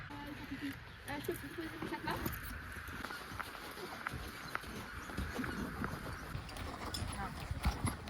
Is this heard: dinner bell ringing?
no